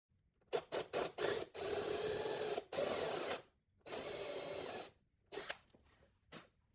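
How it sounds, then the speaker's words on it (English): A power drill bores a 5/16 inch hole, half an inch deep, into plywood for a fold-up Murphy bed, running in several short bursts and longer steady runs with brief pauses between them, close and fairly quiet. "Drill a 5/16 inch diameter by 1/2 inch deep hole."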